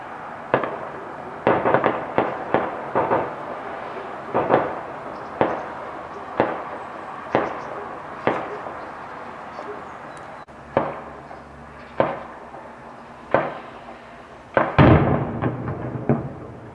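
Rapid, evenly spaced sharp bangs of gunfire and blasts from inside a house, roughly one report per second for about seventeen seconds. The shots are loud and close with short echoing tails, and there are no voices.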